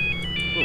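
A ringtone-style telephone chirps in Farming Simulator 19, a bright electronic trill repeating in short pulses over a low steady game hum.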